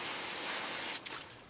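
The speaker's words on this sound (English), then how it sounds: "Aim the spray higher, near the shoulders." A steady, loud hiss of water spraying from a hose onto a Brahman bull's shoulders, continuous for a moment before dropping off and sputtering briefly.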